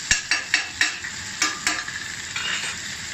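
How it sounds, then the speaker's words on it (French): Hot pan deglazed with cognac after searing steak, a run of sharp clinks and scrapes settling into a steady sizzle, close and fairly loud, no talking. "Et avec la même poêle, on déglace avec du cognac."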